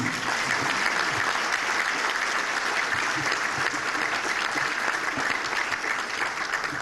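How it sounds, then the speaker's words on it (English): Sustained audience applause at a chamber of commerce event honoring troops and veterans, an even, continuous wash of clapping from a large crowd with no gaps. "Let's have a round of applause for them."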